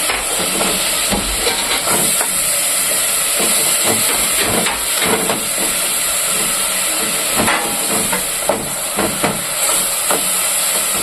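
Garlic sizzles in a hot pan while Alexandrian koshari with onions is cooked: a loud, steady, broadband frying hiss with small crackles runs throughout.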